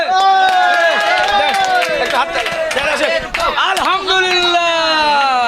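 A group of people claps together at the Gabtoli cattle market in Dhaka, the sharp, rapid hand claps running steadily beneath loud, overlapping voices close by.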